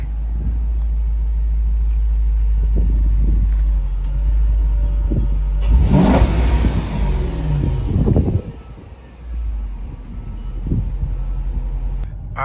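A Dodge SRT with a recently blown head gasket idles with a deep, steady low rumble, then revs sharply once and pulls away, the engine note rising and fading as it settles; loud and close, no talk.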